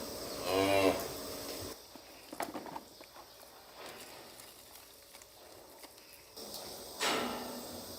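Cattle moo on a farm on the day calves are weaned and separated. There is one clear moo near the start and another near the end, with quieter shuffling and hoof movement in between.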